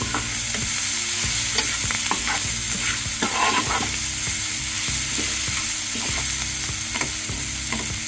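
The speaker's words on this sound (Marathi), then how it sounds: "आता ह्या 5 मिनिटं झाकण लावून मंद आचेवर थोड्या मिरच्या भाजू द्यायच्या" A few chillies roast in a pan over a low flame, with a continuous close sizzle broken by regular scraping stirs and occasional light metallic knocks.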